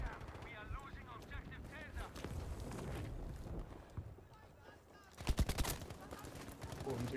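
Gunfire in the video game Battlefield V, a short burst of loud rapid shots near the end, follows a stretch of a player talking over game noise.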